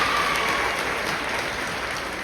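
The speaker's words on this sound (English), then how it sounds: "Let's give him a round of applause also." Audience applause fills a graduation ceremony for an eighth-grade class, a dense, steady clapping from a large crowd that holds at full strength for the whole stretch without pause.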